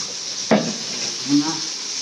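Onions sautéing in a pan for chicken biryani give a steady, soft sizzle, with a clatter of a spoon stirring at the start and a brief low voice partway through.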